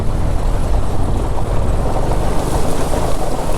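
Motorcycle ploughing through a stream during a water crossing on a Kolkata-to-Ladakh ride, with a continuous loud rush and splash of water plus wind buffeting the microphone, steady and close throughout.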